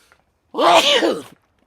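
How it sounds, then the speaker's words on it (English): A single loud sneeze bursts out after a brief quiet, with a voiced build-up and sharp release. "I have to sneeze."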